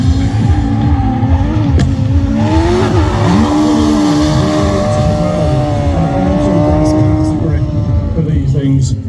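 An autograss car powered by a motorbike engine races on a circuit day at Three Sisters, its high-pitched engine rising and falling through gear changes and sustained loud revving, with brief tyre noise.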